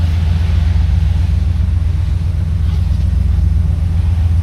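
Steady low rumble of a 1970 Buick Electra 225 engine while driving, a constant droning hum with no revving, loud and close.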